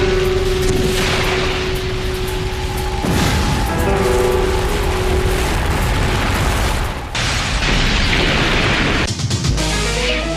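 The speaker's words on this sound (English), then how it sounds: "A series of massive explosions devastates the Mexican city of Guadalajara." Massive gasoline explosions tear through a city street in Guadalajara, Mexico, a continuous roaring series of loud booms and bursts with rumbling debris, dense and overwhelming throughout with no voices.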